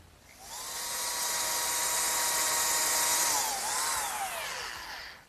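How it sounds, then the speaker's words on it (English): A router mounted under a router table cuts the male part of a pine dovetail joint with a dovetail bit, a loud steady high-pitched whine that holds for several seconds, dips in pitch, then winds down. "With the same dovetail bit mounted in my router, which is now under this router table, I'm able to make the male part of that dovetail joint."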